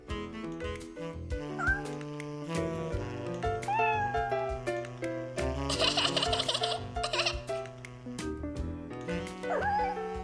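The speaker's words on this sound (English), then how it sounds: "I've never met a kitten that could resist a shoelace." Several high cartoon kitten meows rise over light background music, short and repeated at irregular intervals.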